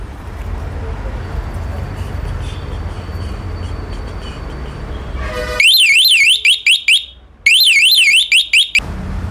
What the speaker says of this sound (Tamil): நெக்ஸ்ட் நம்ம பார்க்க போகிறது ரிக்ஷாவோட ரிவர்ஸ் ஹாரன்.